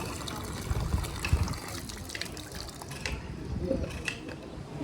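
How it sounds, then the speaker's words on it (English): A water bottle filling from a free public water tap outdoors in Wassenaar, the Netherlands, a steady rushing gush running for several seconds with a faint clicking of the tap mechanism and ambient outdoor noise. "We can fill up the water."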